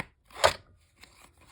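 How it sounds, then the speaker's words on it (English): The edge of scissors scrapes across vellum paper to rough it up, one quick loud rasp followed by a few fainter scratchy strokes, close and with no talk. "So I'm going to take the edge of my scissors"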